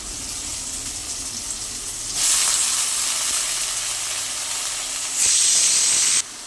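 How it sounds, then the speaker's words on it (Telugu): Brinjal pieces frying with tomatoes in a pan for vangi bath make a steady, close hiss of sizzling oil that swells into louder surges twice as more pieces hit the pan. No one speaks. "ఈ టొమాటో ముక్కలు కూడా వేగిపోయాయి కాబట్టి ముందుగా కట్ చేసి ఉంచుకున్న వంకాయ ముక్కల్ని కూడా వేసేద్దాం"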